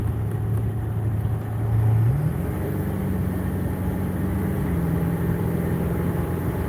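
A tuned 9,000-pound truck with about 275 factory horsepower accelerates. Its deep engine drone climbs sharply in pitch, then holds a steady, heavy pull.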